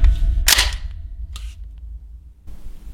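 A 12.67 calibre round is fired: one sharp, loud blast with a brief ringing tail, followed by a second, fainter crack a moment later.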